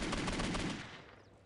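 Rapid automatic gunfire from a video game, a fast burst of loud close shots that trails off after about a second.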